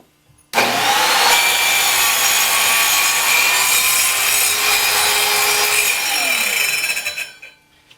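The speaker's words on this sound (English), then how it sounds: "I'm going to cut all the way back and then go all the way forward again, and that'll clean out the kerf that I just make" A power saw cuts kerfs through a stack of wood pieces, a loud steady whining rasp that starts abruptly and holds for several seconds before winding down, close and alone.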